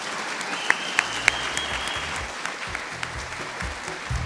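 Audience applause closing a talk on free speech with Nadine Strossen, a steady wash of many hands clapping at moderate distance, with a few sharper close claps standing out early on and no voices over it.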